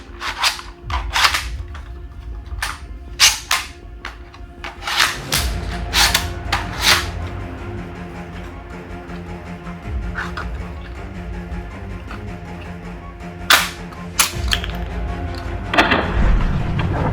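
A functional bolt pistol prop fires in sharp, loud cracking reports, some in quick clusters and others alone, with mechanical rubbing and clattering between the shots.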